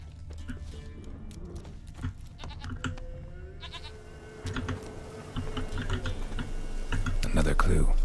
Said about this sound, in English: Oh, I can hear the goat.